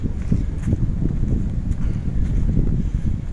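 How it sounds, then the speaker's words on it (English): Strong wind buffets the microphone on an old railroad grade in Breinigsville, Pennsylvania, with a constant low rumble and gusty roar, close and loud, with no voices. "So it's very windy."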